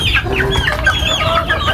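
Several chickens clucking and squawking close by at feeding time in a busy, overlapping chorus over a low background rumble.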